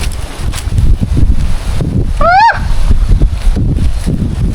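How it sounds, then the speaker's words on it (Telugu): Steady wind blows across an open outdoor spot among banana trees and coffee plants, a constant broadband rush with low gusty rumble throughout, and one brief rising whistle partway through. "మంచి గాలి వేస్తుంది,"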